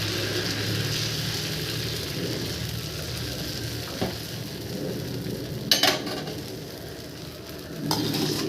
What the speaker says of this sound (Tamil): இப்போ தோசை ஊற்றியாச்சு நல்லெண்ணெயும் ஊற்றிக்கலாம்